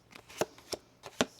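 A few crisp, quick riffling snaps of a tarot deck being shuffled by hand, close and quiet, four short bursts spaced irregularly over a second and a half with no talking.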